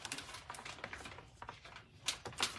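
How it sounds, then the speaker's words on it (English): Card is trimmed on a paper trimmer, giving a run of quick, dense clicking and ticking as the blade slides along, ending in two firmer cutting swipes near the close. The sound is close and moderately faint. "I'll trim off a bit off the end here"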